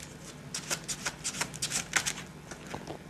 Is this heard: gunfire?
no